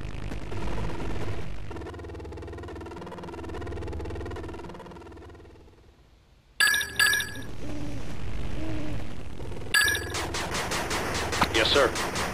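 Rapid machine gun fire bursts from a unit in the 8-bit Armies strategy game, crackling in short clusters after a stretch of game music, with synthesized unit voices and effects around it.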